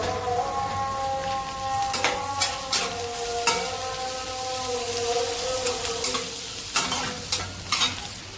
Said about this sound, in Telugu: ఇవన్నీ ఇలా వేగుతున్నాయి కదా, పచ్చిమిరపకాయలు కూడా వేసేస్తున్నాను